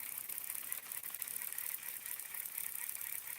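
A customized Curado BFS baitcasting reel turning, giving a steady, faint, hissy whir of meshing gears with a slight rattle, close up and continuous, with no voices.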